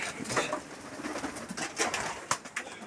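Pigeons cooing in a loft, soft repeated coos and bird calls amid a constant rustly background hiss, close but quiet.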